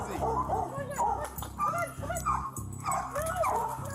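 A dog whines and yelps over and over in a rising and falling pattern for several seconds, at moderate volume, with a voice heard faintly beneath it.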